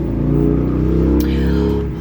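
A motorcycle rumbles past outside a window, a loud, muffled low engine drone that holds steady for a moment before easing away.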